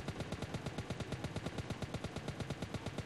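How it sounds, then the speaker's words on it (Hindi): Rapid automatic gunfire from a shooter video game, fired while the player crouches, runs as a steady fast stream of loud, evenly spaced shots through the whole stretch with no talking. "आप अभी फायरिंग कर रहे हैं, बैठ गए, उसी डायरेक्शन में आप फायरिंग करते करते बैठ सकते हैं"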